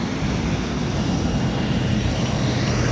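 A Eurowings Airbus A320-200 lands at Madeira airport with a loud, steady, broad engine roar that holds evenly for the whole stretch, with no voices.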